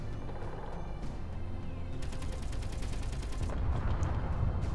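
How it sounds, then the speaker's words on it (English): Rapid bursts of synthetic gunfire and booming missile blasts rumble in the game Space Engineers, with a sustained crackle of shots in the middle. "Explosions!"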